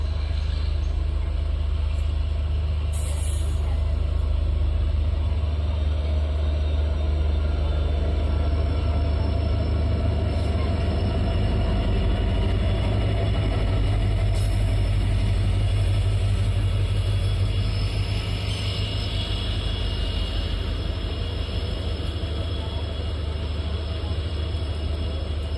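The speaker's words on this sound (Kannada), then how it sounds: "ಸುಮಾರು 25 ನಿಮಿಷ ಹಾಲ್ಟ್ ನಂತರ ನಮ್ಮ ಟ್ರೈನು ಆಲಮಟ್ಟಿ ರೈಲ್ವೆ ಸ್ಟೇಷನಿಂದ ಹೊರಟಿದೆ" A passenger train pulls away from Alamatti railway station after a halt: a steady low rumble of wheels and carriages rolls on continuously, with faint high squeals and clanks now and then, heard from inside the train.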